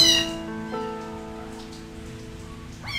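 Two-month-old kittens meow while jostling for bottled milk, with a sharp cry at the start and another rising mew at the end over a soft rain-like background hiss.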